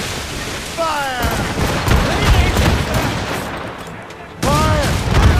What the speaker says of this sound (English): They're firing a volley!